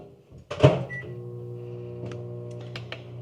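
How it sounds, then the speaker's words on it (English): A microwave oven heating a raw sweet potato hums steadily at close range, with a clunk as the door shuts and the unit starts, followed by light clicks over the running drone. "Back in the microwave for a minute."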